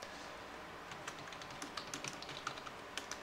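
Fingers type on a computer keyboard, a light pattering of irregular key clicks that starts sparse and grows busier, close and clear with no one talking.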